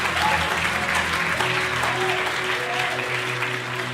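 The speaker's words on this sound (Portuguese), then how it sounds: "pode aplaudir mais forte" A crowd applauds loudly and continuously, dense clapping filling the room for several seconds.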